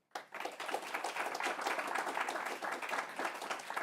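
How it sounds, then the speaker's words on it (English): Audience applause for panelists at the close of a discussion on new genomic techniques, a steady dense clapping that starts abruptly and holds at an even level throughout, fairly close and unaccompanied by speech. "How about a round of applause for them?"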